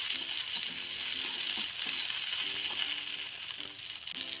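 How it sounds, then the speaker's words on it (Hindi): Large chopped onions fry and sizzle in a pan for a Dhaba-style bhindi do pyaza, a steady hiss broken by soft stirring scrapes every second or so, with no talk. "प्याज भी हल्का फ्राई हो गया है"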